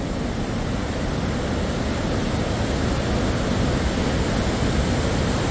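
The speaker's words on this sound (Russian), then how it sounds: "Шумит горная река." A mountain river in Andorra la Vella: steady, dense rushing water roars continuously without pause, like a fast river tumbling over rocks nearby.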